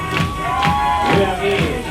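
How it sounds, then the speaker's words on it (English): Audience at a drag show cheering and clapping, a steady crowd roar with shouts rising and falling over a bright sustained music tone. "Give Blondie a round of applause."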